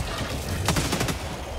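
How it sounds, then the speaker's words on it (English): A rapid cluster of sharp sniper rifle cracks in the shooter game Helldivers 2, several close reports bunched together over a steady noisy battlefield wash. "that's basically a sniper rifle"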